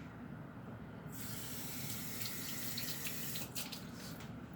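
Steady broadband rush of tap water running into a sink during hand washing while baking a cake, continuous and fairly close, with a brighter splashing layer starting after the first second and no talking.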